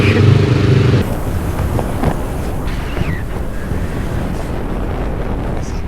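Motorbike taxi riding through Bangkok traffic, steady engine and road rumble heavily mixed with wind buffeting on the microphone, loud throughout with a harder gust at the very start.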